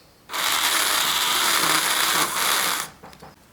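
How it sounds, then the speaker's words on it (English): Slot car tyres with rounded bottoms are held lightly against sandpaper to take off the high points, giving a steady, close, loud rasping whir for about two and a half seconds that stops abruptly. "So just let them rest on the sandpaper very lightly and take off the high points."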